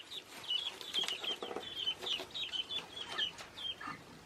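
Guinea fowl calling close by in a rapid series of short, sharp clucks, repeated steadily with no voices.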